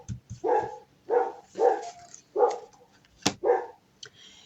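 A dog barks about six times in a loose rhythm, each bark loud and close with short pauses between, plus a sharp click near the end.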